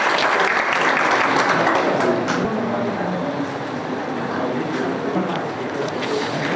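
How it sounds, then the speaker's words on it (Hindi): A group claps during a quiz session at a career coaching institute, sustained dense applause that rings out loud at first and then eases slightly while continuing. "ताली बजाओ भाई।"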